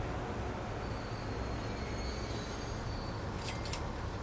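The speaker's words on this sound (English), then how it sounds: "Oh, look, the big freight train to pick up all the grain has come" In the video game Transport Fever 2, a freight train arrives at a grain pickup, rumbling steadily with a thin wheel squeal held above it and a couple of sharp metallic screeches near the end.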